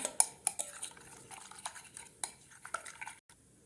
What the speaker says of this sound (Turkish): Ve yumurtaları güzelce karıştırıyorum